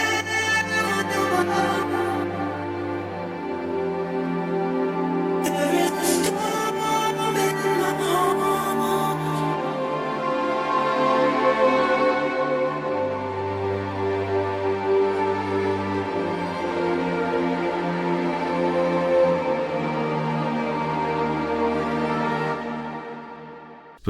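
Produced beat built on sampled strings and a singer's vocal, a sustained string pad and sung line over a steady deep bass pulse, with bright higher layers dropping in and out across the passage; no talking.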